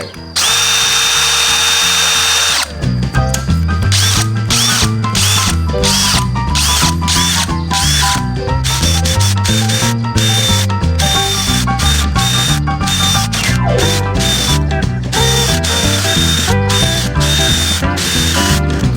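A loud power drill with a hole saw whines steadily, then grinds in repeated bursts with ratcheting, stuttering pulses as it bores into a wooden door, close and unrelenting.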